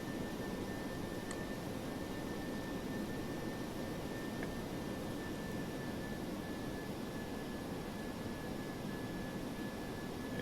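A DC-8-73F jet's engines roar steadily while taxiing in the FSX flight simulator, a continuous, even broadband rush with a thin whine running through it and no break.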